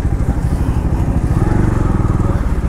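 A 2016 Honda Activa scooter engine idles steadily up close, a continuous low throbbing drone with rhythmic pulsing that stays loud and even throughout.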